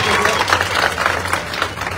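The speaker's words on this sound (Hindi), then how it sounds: "जोरदार तालियां।" Audience applause for Abhay Chautala among HAU students, a dense burst of clapping that fills the short stretch, with faint voices mixed in.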